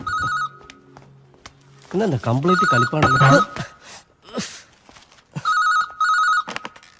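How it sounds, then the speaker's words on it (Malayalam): A telephone rings in repeated electronic bursts of trilling tones, cut across by a man's loud speech in between rings. "പോയി ഫോൺ എടുക്കടാ."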